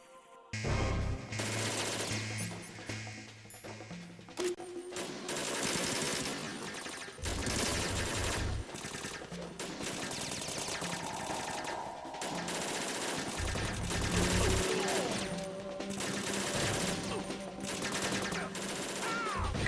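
Rapid automatic gunfire in the stealth action game Metal Gear Solid 2: Substance, a dense, loud fusillade of bursts running through most of the stretch over a busy game soundscape with music.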